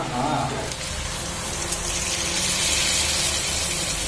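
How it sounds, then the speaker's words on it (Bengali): Water pours into a pot of mutton curry with a steady gushing rush that runs unbroken and fairly loud for several seconds, beginning over a brief moment of background noise. "এবার জল দিয়ে দেবো সুন্দর করে।"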